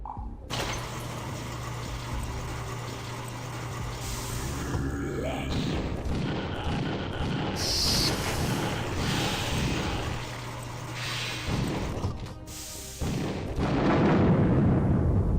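Explosions and gunfire in the video game Last Rites, with booming hits and mechanical clatter layered through a dense, loud game mix, a heavier rumble swelling near the end, while a person talks over it.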